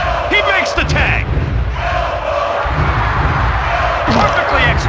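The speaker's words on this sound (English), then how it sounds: "What's up with this crowd? They're like sharks in a feeding frenzy." A loud wrestling arena crowd roars continuously in WWF Attitude on PS1, a dense wall of cheering and yelling with occasional thuds, steady throughout without pause.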